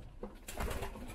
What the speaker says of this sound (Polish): tu już mamy gołębie wszystkie w gołębniku